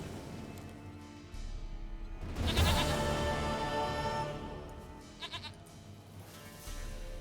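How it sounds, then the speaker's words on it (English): A goat bleats in the video game The Witcher 3, a couple of quavering bleats over a busy, steady game soundscape, fairly quiet and without talk. "Goat of mine, dearest, sweetest goat."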